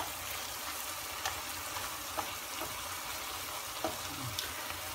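Cream sauce with mushrooms and sausage simmering in a pan on a keto holiday menu, a steady soft sizzle and bubbling with occasional small pops and stirring clicks, close and continuous without talk.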